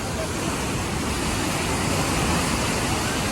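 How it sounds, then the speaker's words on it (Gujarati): A waterfall swollen by rain roars in a steady, dense rush of water that does not let up, heard from some distance with cold wind blowing. "વોટરપૂલ."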